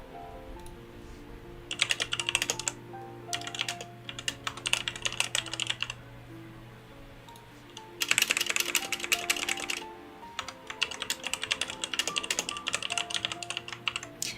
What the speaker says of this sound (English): ASMR de teclado